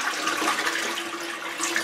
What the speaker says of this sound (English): Now I'm going to demonstrate the ordinary flush. I'm just going to press the button.